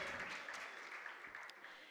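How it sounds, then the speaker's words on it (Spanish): An audience at a regional oratory contest in Los Santos claps in a steady, distant patter. The applause is faint and even throughout. "Fuerte el aplauso para todos aquellos que han formado parte de la organización de este"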